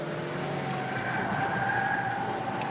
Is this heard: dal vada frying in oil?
no